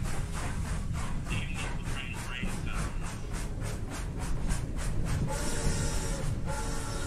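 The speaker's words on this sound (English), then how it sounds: "I see your monorail going, and I see the train you built by hand." A train running on a hand-built railroad in the Roblox game Theme Park Tycoon 2, a steady rumbling roll with repeated rhythmic clacks and a hissy wash throughout, loud and continuous.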